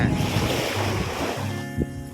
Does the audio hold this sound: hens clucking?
no